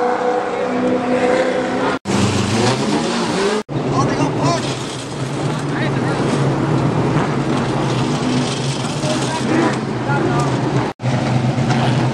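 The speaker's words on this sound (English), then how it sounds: "It's a big time stock car racing." Stock cars roaring around Motor Mile Speedway, a loud sustained engine drone with rising and falling revs as cars pass, cut by a few brief breaks, with a commentator's voice over the racket.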